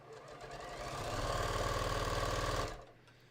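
Sewing machine running a steady line of stitches while sewing binding on a raglan sleeve top, a fast even mechanical rattle that builds slightly and then stops abruptly, close and alone.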